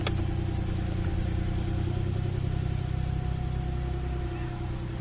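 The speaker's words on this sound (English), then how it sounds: "there's an exhaust leak here" An Infiniti Q50 with an exhaust leak and a suspected transmission problem runs steadily at idle, a continuous close engine hum with low rumble and a faint ticking edge holding level throughout.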